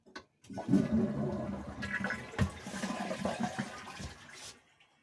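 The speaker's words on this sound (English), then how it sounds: "And then I would simply flush my toilet." A household toilet flushing, a short click of the handle followed by a close, rushing gurgle of water draining from the bowl and then refilling, fading out after about four seconds with no talk.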